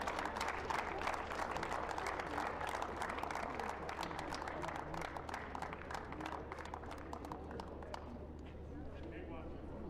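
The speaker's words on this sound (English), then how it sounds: "Big round of applause here." Audience applause at a junior tennis finals awards ceremony, steady crowd clapping throughout, moderately distant, with a voice talking over it.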